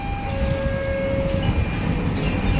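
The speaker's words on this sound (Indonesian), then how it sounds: "Nah, ini ada kereta api ya." A train rolls past on a railway in a steady, loud rumble with a sustained high tonal whine riding on top, continuous for the whole stretch with no clear voices.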